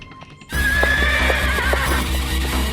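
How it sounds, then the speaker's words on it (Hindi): Horses whinny loudly and close in a Hindi family film scene as a steady, rhythmic clatter of galloping hooves sets in and continues. "ये घोड़े कहाँ से आ रहे हैं?"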